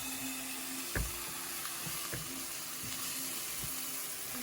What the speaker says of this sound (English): Then I want to sear it again.